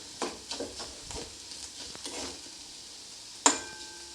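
Carrots and potatoes stir-fried in a pan, soft intermittent scraping and shuffling of the vegetables over a faint sizzle, ending with one sharp utensil clink against the pan, quiet and close.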